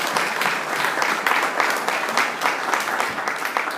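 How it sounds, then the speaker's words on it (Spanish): Congregation applauding in a church, a steady wash of many hands clapping close and fairly loud for the whole stretch, with no voices standing out. "Pueden darle un aplauso al Padre."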